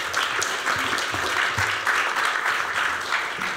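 An audience at a civic forum on the just city applauds presenters called to the stage, steady sustained clapping from many hands filling the room throughout.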